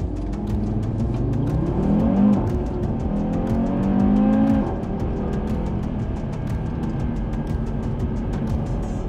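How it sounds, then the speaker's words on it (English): A 2020 Audi TT RS driving, its engine droning and swelling as it accelerates and shifts, rising then easing off, steady and fairly loud with a faint rhythmic ticking over the top. "This is a 2020 Audi TT RS."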